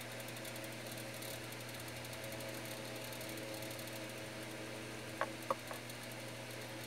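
A small electric body massager motor runs faintly and steadily with a low constant hum and a thin high whine, broken only by a couple of brief clicks near the end.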